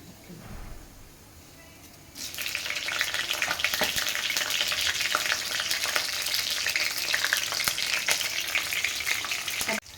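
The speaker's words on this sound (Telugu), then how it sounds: "చిట్టపట్లు ఆడినాక 4 పచ్చిమిరపకాయలు వేసుకుందాం." Mustard seeds and cumin sputter in hot oil with green chilies, bursting into a loud continuous crackling sizzle after a quieter opening, with sharp pops scattered through it.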